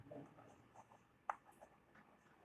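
Marker or chalk on a board during a chemistry lesson in a classroom, faint, soft strokes and small scratchy taps with one sharper click, quiet and close, with no talk.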